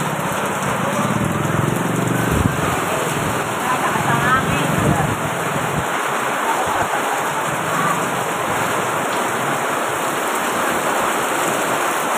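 Heavy monsoon rain falls in a constant broadband wash with a steady high whine above it. Muffled voices and low bumps sound early on before the downpour continues alone.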